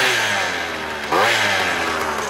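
A 96cc two-stroke scooter engine revs close by. A steady buzzing drone rises in pitch midway through, then holds, fairly loud and alone with no talk.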